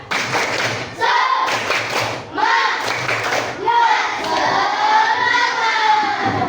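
Schoolchildren in a classroom repeat the tepuk semangat chant, clapping in rhythmic clustered beats broken by short gaps, with a group of young voices chanting loudly over the claps.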